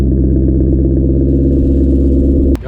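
A 2015 Maserati GranCabrio convertible's engine idles close and loud, a steady rich low rumble with a sharp click near the end.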